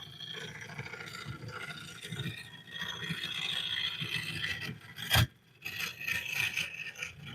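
A carbide tool shaves a wooden bowl spinning on a lathe, giving a steady rasping scrape that swells and eases, with one sharp knock midway.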